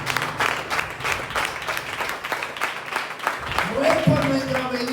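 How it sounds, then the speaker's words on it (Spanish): A church congregation bursts into applause, steady dense clapping from a crowd filling the room, with voices and a shout rising over it near the end. "Denle un aplauso a Cristo por la obediencia."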